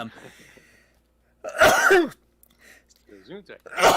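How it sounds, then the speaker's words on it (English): A single loud sneeze bursts out after a brief pause, preceded by soft talk and followed by a short breath and more speech. "I have a sneeze coming, so pardon me"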